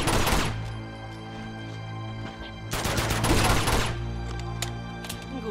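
Gunfire in the video game Uncharted 2, two loud bursts of rapid shots with a quieter pause between them, set over a steady low game soundtrack.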